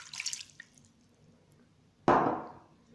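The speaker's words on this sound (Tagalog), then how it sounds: "lagyan natin ng tubig" Water is poured into a cooking pot of pork adobo after the vinegar goes in, a close splashing gush that starts loud and trails off over about a second.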